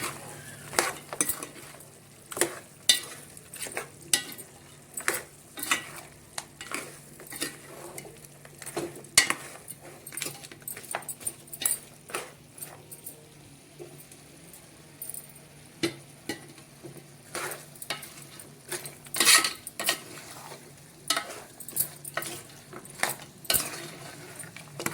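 A spoon stirs chili powder into mutton head curry in a metal pan, with repeated scraping clinks and taps at an irregular pace over a faint sizzle, close and fairly quiet, no talking.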